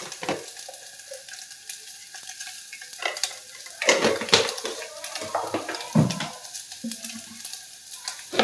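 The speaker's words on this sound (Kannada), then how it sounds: "ತುಪ್ಪದಲ್ಲಿ ಒಂದು ಸ್ವಲ್ಪ ಫ್ರೈ ಮಾಡಿ ಇಟ್ಕೊಳ್ಳೋಣ" Soya chunks frying in ghee in a pan, a soft steady sizzle broken by scraping stirs and clinks of a spoon against the pan, close and moderately loud, with no talking.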